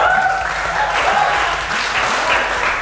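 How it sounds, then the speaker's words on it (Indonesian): A seminar audience claps together, a steady wash of applause filling the hall for a few seconds, with a voice faintly audible underneath. "Tepuk tangan untuk kalian."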